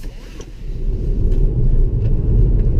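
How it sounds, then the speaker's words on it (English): A 2016 Hyundai Veloster Street Turbo on the road, its low engine and tyre rumble heard from inside the cabin, building steadily, with a person's voice partly over it. "Let's take it for a drive and see how it goes."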